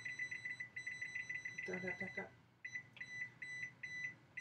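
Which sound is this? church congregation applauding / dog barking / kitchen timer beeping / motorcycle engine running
kitchen timer beeping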